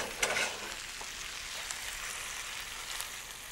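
Onions and tomatoes sizzle steadily in a pan while chicken cooks, a close continuous crackling fry with a few sharper pops, no talk.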